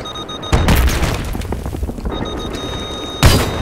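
A tank blows up in Battlefield 3, with two loud, close booming explosions, one early and one near the end, separated by a rumbling stretch of scattered blasts and debris.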